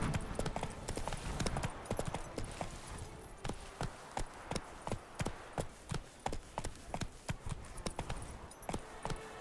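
Roach, the horse in The Witcher 3, gallops with a steady, rapid clip-clop of hooves close by, and a voice speaks briefly over it.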